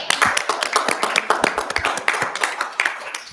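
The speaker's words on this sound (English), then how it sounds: "So many claps tonight." Scattered hand clapping from a small crowd at a city park board meeting in Fargo, brisk uneven claps overlapping for a few seconds, fairly close and unaccompanied by talk.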